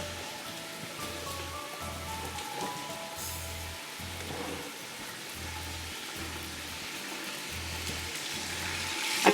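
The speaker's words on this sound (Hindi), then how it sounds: "ये 750 ग्राम मटन चला गया और इसको हम फ्राई करेंगे।" 750 grams of mutton frying in a pot, giving a steady, moderately loud hiss and crackle that runs without a break, with a low hum pulsing regularly underneath.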